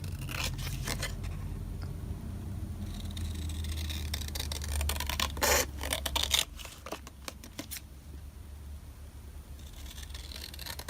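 Scissors trim paper while a journal is being made, giving a run of sharp close snips and crisp paper rustles in the middle of the clip over a quiet low room hum, with no speech.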